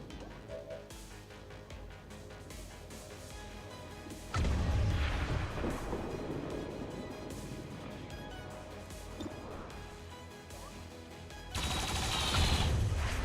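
Automated turrets open fire in the video game XCOM 2: War of the Chosen, a sudden burst of loud crashing gunfire and blasts that rumbles on for several seconds, then another sharp loud burst near the end.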